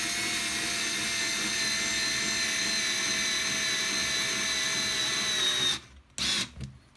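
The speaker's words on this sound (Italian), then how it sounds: "Perfetto, per le viti semplici riesce a avvitare facilmente" An IKEA FIXA 3.6V cordless screwdriver drives screws with a steady, loud motor whine that runs unbroken for nearly six seconds, then stops and gives two short final bursts.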